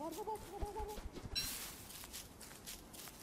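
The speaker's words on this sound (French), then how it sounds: "le dindon est en train de bouffer de la baie" A gobbler in the game Don't Starve gives a short run of clucking gobbles, followed by soft pecking and rustling as it eats berries. The sounds are quiet and play over the game's low ambient background.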